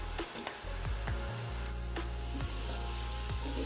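Onions with garlic and ginger paste frying in hot oil for mutton pulao, a steady close sizzle with stirring clinks and scrapes throughout, no voices.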